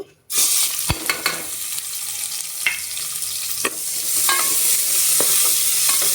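Chopped onions frying in hot oil inside a pressure cooker make a steady close sizzle, broken by several sharp clinks and scrapes of a spoon stirring against the metal.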